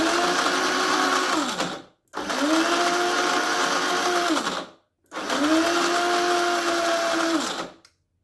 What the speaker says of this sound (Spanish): Agregamos las semillas en el molinillo y a moler.